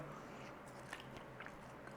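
Biting and chewing on crunchy, crispy Chinese shredded beef in a firm, sour tomato-flavoured coating, with faint crisp crunches coming up close and quiet over a low background hum.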